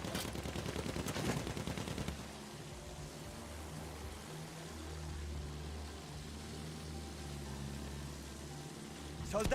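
Rapid gunfire from a first-person shooter video game: a dense burst of shots at the start, then sustained rattling fire and clatter running steadily under the action for the rest of the stretch.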